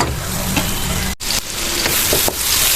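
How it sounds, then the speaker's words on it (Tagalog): Onion and garlic sauté in a pan for ginataang santol, a steady close sizzle of frying with a few light stirring scrapes and a brief break partway through. "lutuin lang po natin ang sibuyas at bawang"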